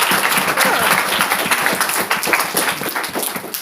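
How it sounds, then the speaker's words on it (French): Steady crowd applause fills the room, dense and loud throughout, with no speech over it. "Applaudissons pour le frère là."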